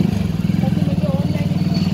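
A motorcycle engine idling and revving with a rapid, throbbing putter, close and loud.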